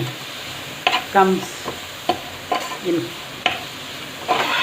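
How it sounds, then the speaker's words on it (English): Spinach (palak) is sautéed in a pot for palak lemon rice, with a steady sizzle broken by a series of sharp scraping and clanking stirs from a spoon, and nobody speaks. "Now I have added my palak and nicely saute till the palak gets nicely"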